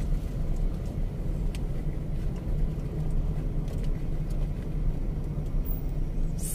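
A car drives steadily with its engine running, a continuous low road and engine rumble heard from inside the cabin with no talking.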